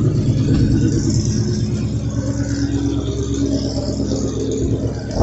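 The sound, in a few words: loud car engine revving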